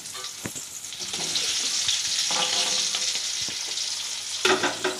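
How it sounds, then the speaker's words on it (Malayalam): Chicken pieces for a curry frying in hot oil, a steady loud sizzle filling the clip with a few sharp scraping stir knocks from a utensil, no talking. "അങ്ങനെ നമ്മൾ ചിക്കനെല്ലാം വറുത്ത് കഴിഞ്ഞു."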